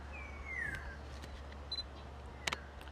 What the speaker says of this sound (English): Beautiful, beautiful shutter sound and very, very little vibration.